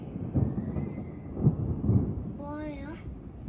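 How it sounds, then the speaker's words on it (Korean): Low, rumbling thunder from rainy-season storm clouds in Uganda rolls in a few heavy swells, distant and muffled, with a voice briefly rising above it near the end. "천둥"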